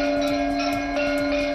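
Temple bells clang repeatedly and loudly in steady strokes at the Ram Navami celebration in Ayodhya, their ringing overlapping into a dense continuous wash with no talk.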